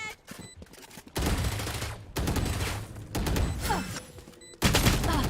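Gunfire from a gunfight in the video game Valorant, with loud bursts of rapid shots that stop and start in several spells, separated by brief quieter gaps of game ambience.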